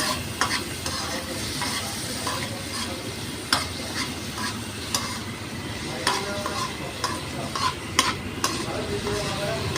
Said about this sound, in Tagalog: Tapos, ilagay na natin ang karne, mga idol.